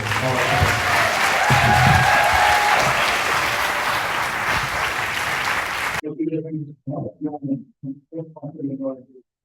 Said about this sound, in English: let's give a round of applause for Greg Smith